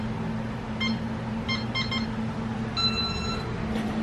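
A home alarm keypad beeps in short bursts as a code is punched in, the tones faint and quick against a steady low household hum.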